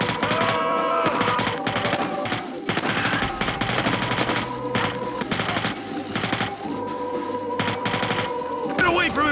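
Video game gunfire from Hitman: Blood Money, rapid bursts of automatic shots rattling in dense, loud volleys with brief gaps, set against a swelling musical score.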